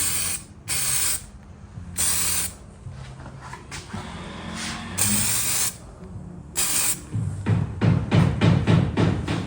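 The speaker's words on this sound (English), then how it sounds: "now we're putting a clear coat on the steering wheel." Short bursts of aerosol spray hissing as clear coat goes onto a vintage go-kart steering wheel, several separate pulses of a second or so with pauses between them, followed by a quick run of rattling clicks.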